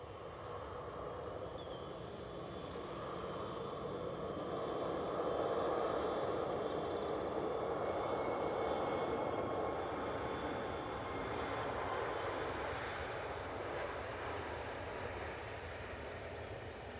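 Airliner in holiday livery at Manchester Airport, a sustained broadband engine roar that swells in the middle and stays steady and fairly distant throughout, with no talking.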